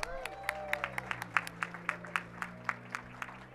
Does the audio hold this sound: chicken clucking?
no